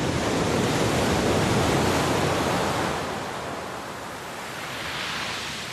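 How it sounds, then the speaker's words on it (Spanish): Sea waves wash in a steady, broad roar of surf, loud and continuous, easing slightly softer midway before swelling again, with no voices present. "El sonido del mar es paciente y va pasando a primer término poco a poco"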